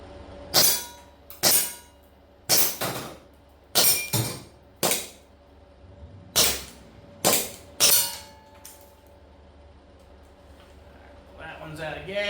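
A 1911 pistol fired at targets outdoors in cold weather, nine sharp, loud reports spaced about a second apart with quiet gaps between, then faint handling noise at the end.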